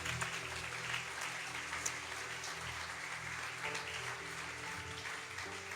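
Congregation applauding in a church during a sermon, a steady spread of clapping held at an even level throughout, with a low murmur and faint tonal hum beneath it.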